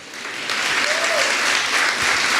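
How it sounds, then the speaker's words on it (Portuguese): A church congregation breaks into loud, dense applause that swells quickly and holds steady, with a voice briefly audible within the clapping. "dê um aplauso ao Senhor"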